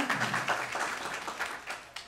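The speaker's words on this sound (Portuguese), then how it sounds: "Uma salva de palmas para eles." Audience applause at a lecture on the public service in crisis. A steady patter of clapping from a room full of people runs for about two seconds at moderate distance, with faint voices underneath.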